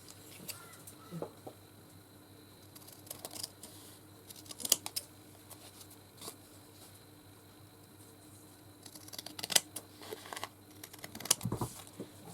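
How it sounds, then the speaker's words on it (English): Scissors trim crafted journal tags to size. A few crisp snips and paper rustles come in short bursts over a quiet room, close and fairly faint. "I think I'll just trim it to size properly first"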